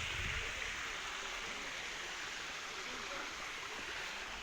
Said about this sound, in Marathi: इकडं पाण्याचे झरे आहेत